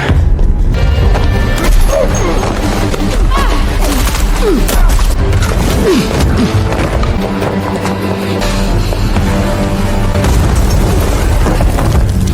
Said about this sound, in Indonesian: Untungnya Andy masih selamat dari ledakan grenade launcher yang ditembakkan oleh Keen, pemimpin dari pasukan Stephen.